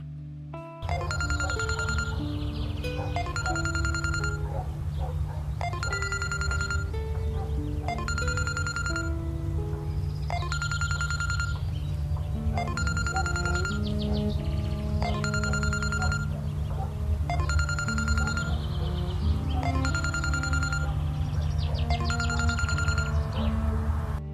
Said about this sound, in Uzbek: Xolalarim telefon ko'tarishmayapti.